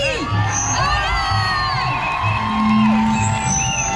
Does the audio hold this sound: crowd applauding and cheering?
yes